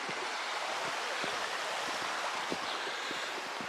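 Steady broadband rush of a river flowing beside a walking path near Saint Jean Pied de Port, a continuous close wash of moving water with faint scattered ticks and no talking.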